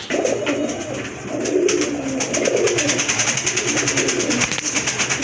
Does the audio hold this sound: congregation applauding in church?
no